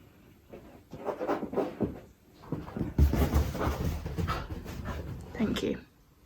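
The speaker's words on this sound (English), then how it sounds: "My dog is currently trying to make me play with the squeaky egg." A dog pants and whimpers close by, eager to play with a squeaky egg toy, with soft shuffling and a voice murmuring in between.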